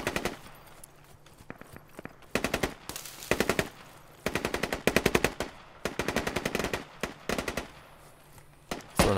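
Automatic and rapid gunfire in a video game shootout, loud clustered bursts of shots with short gaps, some single cracks in between, busy and close throughout.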